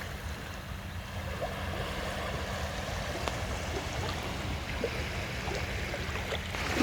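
Ocean waves at Hyeopjae beach on Jeju wash in as a steady, broad roar of surf, continuous and fairly close, with wind noise mixed in and no voices.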